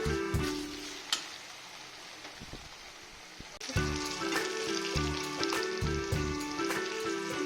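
Spices hit a pan of sautéed ginger, garlic and onion, a soft sizzle that jumps to a brighter, busier frying crackle midway, with light scraping and clinks of stirring nearby.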